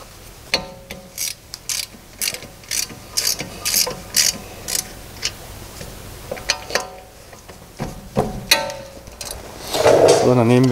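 A ratchet clicks while loosening the brake caliper bolts on a VW, with bursts of sharp metallic pawl ticks and short pauses between them. The sound is close and clear, with a brief rising whir near the end.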